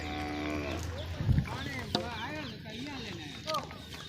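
Buffaloes moo nearby while grazing with herders in rural Gujarat, a deep drawn-out low followed by shorter calls, with people talking and rustling movement around them.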